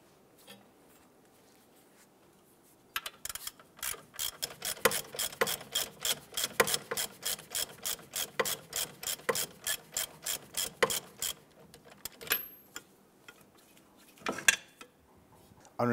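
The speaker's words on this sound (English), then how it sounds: "Now we can go ahead and remove this lower bolt." A ratchet wrench loosens the lower strut bolt on a 2012-2017 Toyota Camry, clicking in a rapid, steady run of sharp ratcheting strokes for about nine seconds, close up and with no talking.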